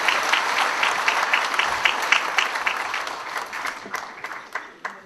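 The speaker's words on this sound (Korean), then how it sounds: "힘찬 박수 부탁드리겠습니다" Applause fills a hall at a labour union delegates' convention, many hands clapping in a brisk, steady patter that gradually thins and fades toward the end.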